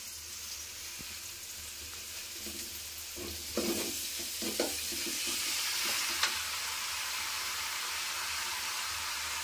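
Meat dropped into a pan of oil and onions for a home-cooked chicken dish sizzles and fries steadily, with a few stirring scrapes and clatters rising over the continuous hiss.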